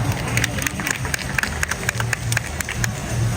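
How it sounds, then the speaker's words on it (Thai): An audience at a kids contest at Central Bangna claps in an uneven scatter of sharp hand claps under a steady crowd murmur and hubbub. "วันนี้ขอเสียงปรบมือหน่อยครับ"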